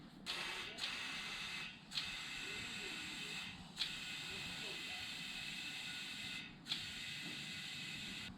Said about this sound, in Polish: Gdzieś tu mnie syczy, ale gdzie?